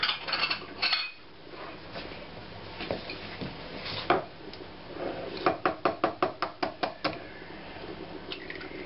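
A small kitchen gadget beating eggs at home during dinner preparation, a run of quick, rhythmic clattering taps toward the end after a few scattered knocks, close and fairly faint with no talk.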